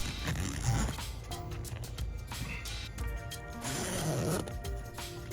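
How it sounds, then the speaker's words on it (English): A zipper is drawn slowly around the corners of a ROAM Vagabond rooftop tent cover, making close, rasping pulls in uneven bursts with brief pauses as it catches, and nobody speaks. "The corners are the most difficult part to get the zipper to pass through."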